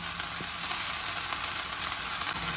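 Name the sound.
greens frying in pan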